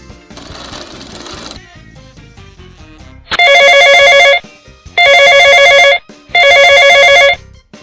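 Telephone ringing in loud bursts, three evenly spaced electronic trills of about a second each, preceded by quieter mixed background sound.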